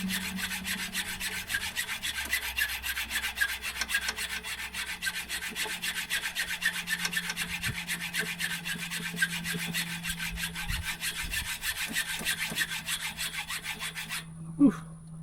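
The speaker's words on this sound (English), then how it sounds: "With a hacksaw, it's just an endurance race." A hacksaw cuts through a metal bolt with steady back-and-forth rasping strokes, close and continuous for about fourteen seconds, then stops with a brief clunk.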